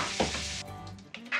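Vegetables sizzle and fry in a hot pot, a steady crackling hiss with a few stirring clatters and bursts, heard alone at moderate level.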